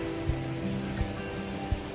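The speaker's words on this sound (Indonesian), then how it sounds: "gemericik air sungai yang menerpa bebatuan" River water rushing and splashing over rocks at a cool, peaceful nature spot in Pangalengan, Bandung, heard as a steady broadband wash with a few soft low thumps, close and continuous.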